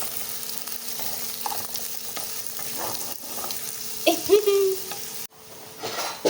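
Onion and tomato fry in a pan for Mangalore-style chicken curry, giving a steady close sizzle with occasional stirring scrapes and a brief louder clatter near the end.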